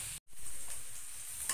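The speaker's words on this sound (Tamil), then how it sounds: "வெங்காயம் நல்லா வதங்கிடுச்சு." Onions sauté in a pan for chapati kothu with a close, steady sizzle and soft stirring scrapes, broken by a brief silent gap near the start, with no speech.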